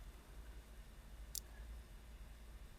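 A single sharp computer mouse click, brief and isolated against a quiet low background hum.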